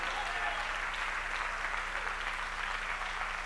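A church congregation applauds the Lord Jesus together, a steady, dense wash of clapping that holds at an even level from start to finish without pause.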